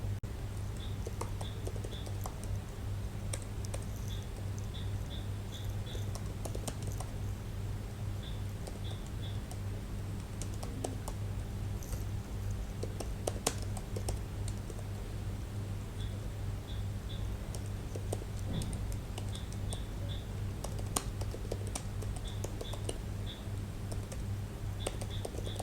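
Keys clack on a computer keyboard as a simple C++ program is typed out, quiet, close bursts of tapping separated by short pauses over a faint steady hum.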